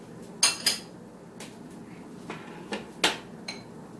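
A utensil stirs scrambled eggs with crab in a pan, giving a handful of sharp metallic clinks and scrapes at uneven intervals over a quiet kitchen background.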